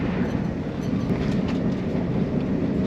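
Steady, continuous rumble of an LNER Azuma high-speed train from inside a first-class carriage, a low droning roar with faint rattles, no voices.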